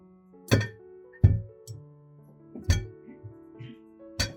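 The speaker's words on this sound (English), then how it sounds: "Put the tomatoes in sterilized glass jars." Whole tomatoes are dropped into a sterilized 1.5-liter glass jar, producing four separate dull thunks spaced about a second apart, each followed by a faint ringing of the glass, close up in a quiet kitchen.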